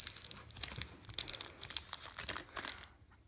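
A Pokemon card pack wrapper being torn open and crinkled up close, a quick burst of sharp crackling and tearing rustles lasting a few seconds before falling silent.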